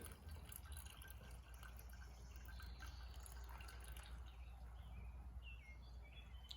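Liquid drips and trickles steadily from a lifted grain bag draining into a pot during extract beer brewing, a soft continuous patter with faint birds in the background and no talk.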